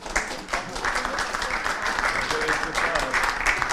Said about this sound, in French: vous entendez les applaudissements